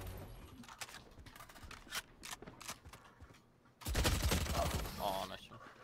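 Rapid gunfire from the Valorant video game's Phantom rifle crackles in quick bursts of sharp shots, then a louder, denser volley erupts near the end, with faint talk underneath.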